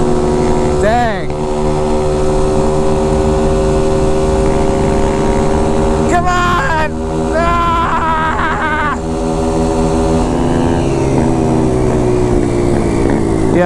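Dirt bikes race with loud, buzzing engines revving and shifting pitch, rising and falling whines passing close by, while people shout and talk over the continuous engine noise.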